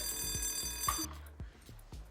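A bell alarm clock rings steadily, then stops abruptly, leaving a few faint rhythmic ticks and clicks.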